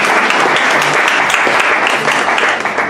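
Congregation at a Bible institute student certification ceremony applauding in praise, a dense, steady wash of clapping from many hands that holds at full strength for about three seconds with no voices over it.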